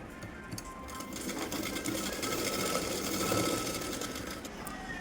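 A sewing machine stitches a blouse lining seam with a continuous, close, loud mechanical whir that holds steady.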